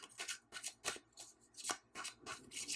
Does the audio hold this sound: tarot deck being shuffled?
yes